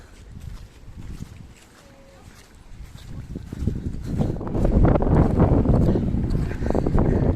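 Wind starts light on a coast near a beach at Akbük, Bodrum, then gusts build into a loud buffeting rumble against the microphone for the second half.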